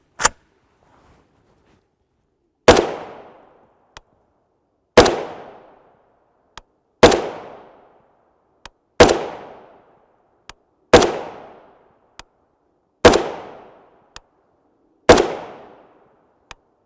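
Seven rifle shots of 7.62x39mm 8M3 hollow-point ammunition fired into ballistic gel, each a loud sharp crack with a decaying tail, spaced about two seconds apart in a steady rhythm, with faint clicks between shots and no talking.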